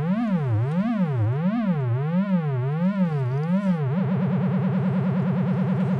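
A synthesizer oscillator outputs a buzzy tone whose pitch sweeps up and down in a steady zigzag, then switches to a faster, tighter wobble, loud and alone.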